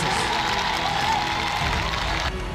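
A worship gathering's crowd acclaims Jesus with loud, continuous cheering and applause, many voices blending into a dense roar that fills the whole moment.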